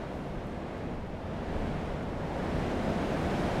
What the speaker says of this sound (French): très fort vent qu'il y a maintenant